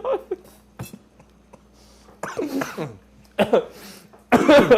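Several short, sharp laugh coughs in bursts during a hot wings challenge, close by, with laughter-like voiced breaths between them and faint clinks of dishes.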